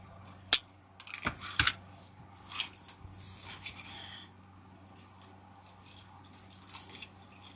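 Cutters trimming flower stems for a patriotic grapevine wreath, giving a few sharp close snips and clicks spaced apart, with soft rustling of stems and handling between cuts.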